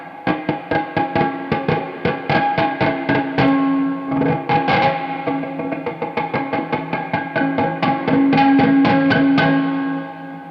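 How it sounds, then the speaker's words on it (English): A pick scrapes the tremolo springs of an electric guitar in quick repeated strokes, each producing a metallic, ringing clang with springy reverb, close and fairly loud. "Get your pick, and as you would pick scrape your guitar"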